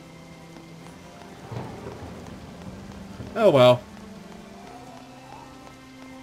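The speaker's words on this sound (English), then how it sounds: "And everyone else is inside because of the rain." Steady rain falls in the video game Harvest Moon: Animal Parade as a soft, even patter, with a short spoken remark from a voice partway through.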